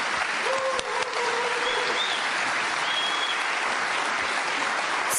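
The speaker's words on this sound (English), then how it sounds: "These guys deserve a huge round of applause for taking the questions." A crowd claps steadily and loudly for the candidates at a congressional district debate, dense continuous applause filling the whole stretch with no voices standing out.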